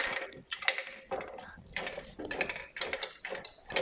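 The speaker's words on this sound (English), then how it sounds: "We can take the quilt off the frame." Quilt being unpinned and pulled off a quilting frame, with a run of ratcheting clicks, rustling fabric and mechanical rattles in uneven bursts, close and moderately loud.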